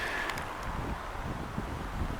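Strong wind on a Montreal street buffets the microphone, a steady low roar with gusty swells and faint rustling, brief and without speech.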